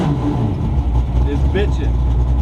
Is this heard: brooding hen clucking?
no